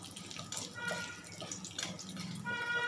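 Cumin seeds spluttering in hot oil for a Bengali tilapia curry, a continuous close sizzle with dense crackles and pops.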